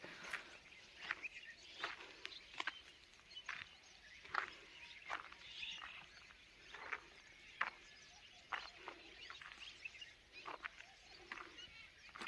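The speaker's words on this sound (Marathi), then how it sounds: "तुम्हाला त्यांचा आवाज ऐकू येत असेल त्याच्यामुळे मी थोडा वेळ बोलत नाही तुम्हाला पक्ष्यांचा आवाज घ्यायचा असेल तर" Birds call and chirp repeatedly in short bursts, fairly close, near a lake over a quiet outdoor background with no talking.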